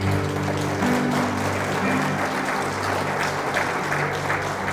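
A church congregation claps steadily during a sermon, a continuous dense wash of applause filling the sanctuary, with a sustained organ or keyboard chord underneath and no distinct voices.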